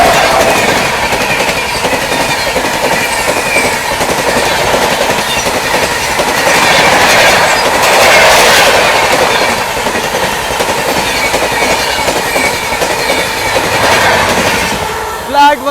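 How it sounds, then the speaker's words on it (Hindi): The Sealdah–Bikaner AC Duronto Express races past at full speed: a loud, close, sustained roar of wheels with rapid clickety-clack over the rail joints and a swelling rush in the middle. "पीछे से 12259 शालदा बीकानेर AC दुरंतो आती हुई भाई पूरी रफ्तार में"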